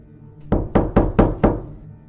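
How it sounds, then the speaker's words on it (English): Someone knocks on a wall from the other side of a room: five hard, hollow raps in an even rhythm, close and loud, with nothing else heard. "it knocked on my side of the wall"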